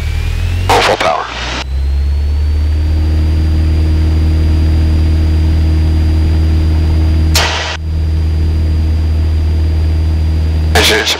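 A Cessna 172 Skyhawk's piston engine roars steadily at full power on the takeoff roll, a loud continuous drone heard from inside the cockpit, with brief bursts of radio or intercom noise breaking in.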